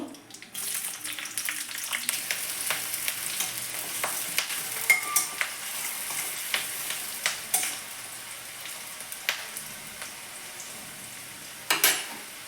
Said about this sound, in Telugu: ఇప్పుడు ఉల్లిపాయ అంతా వేగిపోయింది